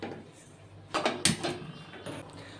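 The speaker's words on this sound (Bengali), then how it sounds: "আমি একটা কড়া বসিয়ে নেব।" A metal karahi wok set down on a kitchen stove gives a few clanking, scraping knocks, two or three sharp metallic hits close by over a quiet room.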